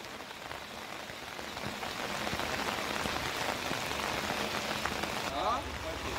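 Heavy monsoon rain during a red alert in Valsad, Gujarat, a dense continuous roar of rain hitting surfaces that grows slightly louder and stays steady, with no clear talking.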